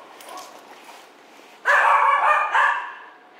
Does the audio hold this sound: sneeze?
no